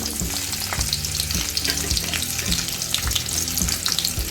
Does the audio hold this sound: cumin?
yes